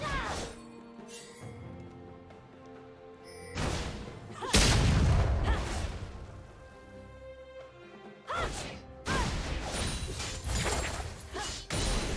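Turret destruction in a League of Legends match: heavy booming crashes and rumbling debris bursts in several waves, loud and close, with game effects layered between the impacts.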